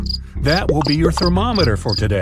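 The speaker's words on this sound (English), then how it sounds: "Have you heard the crickets chirp?" Crickets chirp in quick, regular bursts in the background while a person talks clearly over them.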